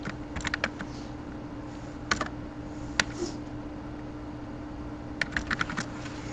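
Computer keyboard typing while renaming a file, short irregular bursts of crisp key clicks separated by pauses, close and fairly quiet over a faint steady hum.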